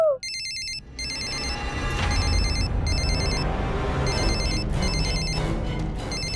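A telephone rings with a repeating electronic trill in short bursts, sounding over a busy rumbling background in a home scene.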